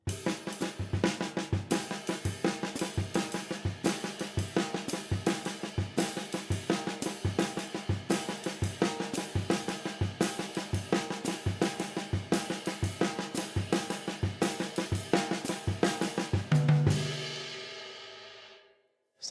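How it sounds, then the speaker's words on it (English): A drum-lesson bass drum beat pattern thumps in a steady, evenly spaced rhythm for most of the clip, played alone and fairly close, then the final hit rings out and decays into silence. "I'm going to start with the bass drum."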